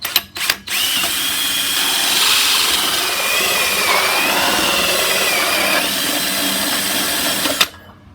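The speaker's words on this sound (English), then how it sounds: "So now I'm going to hopefully drill a hole through the plastic panel." A power drill bores a hole through a plastic panel while a card reader is being installed. The whine is steady and loud, running continuously for about seven seconds and stopping abruptly, with no talk over it.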